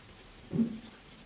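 A Pelikan Pelikano Junior fountain pen nib writes on paper, one brief soft scratchy stroke, close and quiet against a hushed room.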